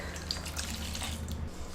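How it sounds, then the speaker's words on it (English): Milk poured into a bowl already holding eggs, cheese, salt and pepper, a steady liquid pour lasting under two seconds with no talking. "and then pour the milk."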